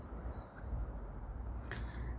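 Birds chirping outdoors, a few brief high tweets standing out over a low, steady background rumble, faint and somewhat distant.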